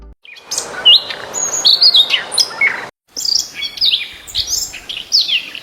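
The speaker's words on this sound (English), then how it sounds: "The Siberian ruby-throat sings with a voice that feels surprisingly bold for such a secretive bird." Siberian rubythroat singing: a bold, rapid run of high, clear whistled phrases and warbles, loud and close, with a brief pause midway before the song resumes.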